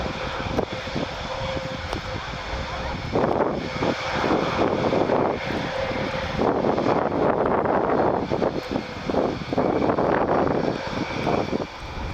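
An Airbus A400M Atlas military transport propeller aircraft drones steadily overhead at an airshow, its engine roar swelling and fading slightly amid some wind buffeting on the microphone.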